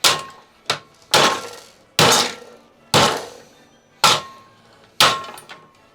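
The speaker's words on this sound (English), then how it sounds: "I reckon we can just like hit this bit out" Seven sharp hard strikes knock at a part of an old DVD drive, each a loud close crack with a brief rattling decay, spaced about a second apart.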